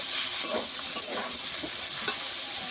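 Ghugni masala with ginger paste sautéing in a pan, a loud continuous sizzle broken by repeated stirring scrapes of a spatula, close and without talk.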